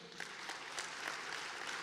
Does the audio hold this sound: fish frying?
no